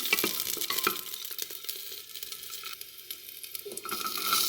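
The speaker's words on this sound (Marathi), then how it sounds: "त्यानंतर अद्रक, लसणाच्या पाकळ्या आणि तुपामध्ये थोडंसं परतून घ्यायचं" Ginger and garlic cloves with green chili sautéing in ghee, a fine, steady sizzle with soft stirring taps and occasional utensil clinks, close and moderately loud.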